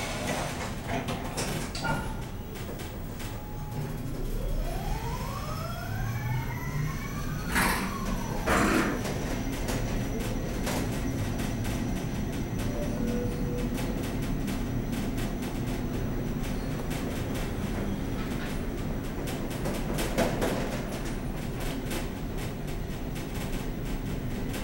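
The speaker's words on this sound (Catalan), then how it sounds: "Atenció, tancant portes." A metro train on Barcelona's L11 line sits at Ciutat Meridiana station as its doors close, with rising and falling electric whines, a few sharp mechanical clunks, and a steady rumble throughout; no talking.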